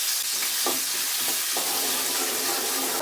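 Onions frying in oil for a brinjal gravy give a dense, even sizzle close by, with a few soft stirring touches early on and no voices.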